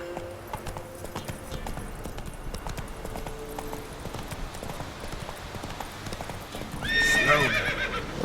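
Hooves clip-clop steadily as a horse moves in the Witcher 3 video game, then a loud whinnying neigh breaks out near the end, rising above the hoofbeats.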